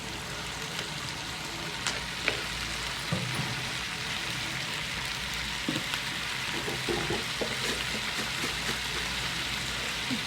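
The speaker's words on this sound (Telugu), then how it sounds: "టమాటాలు కూడా వేసేస్తున్నాను ఇప్పుడు." Tomatoes sizzling in a pan while dosakaya pachadi is cooked, a steady close frying hiss with scattered small pops and crackles and no talk.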